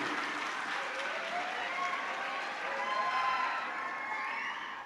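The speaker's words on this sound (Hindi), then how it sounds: "इसके लिए मैं चाहता हूं एक बार जोरदार तालियों से स्वागत होना" Sustained applause from an audience at a felicitation program honouring a teacher, steady dense clapping heard from a moderate distance, continuing evenly for several seconds with faint crowd voices mixed in.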